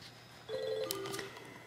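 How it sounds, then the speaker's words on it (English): A telephone rings during a crafting session, a single electronic ring tone starting partway in and holding steady at moderate loudness over faint background noise, with no talking. "I had a phone call"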